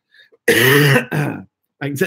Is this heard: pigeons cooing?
no